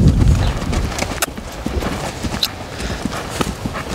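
Hooves of a two-year-old colt clip-clopping steadily as it keeps moving during its first saddling, with irregular thuds and scuffs close by.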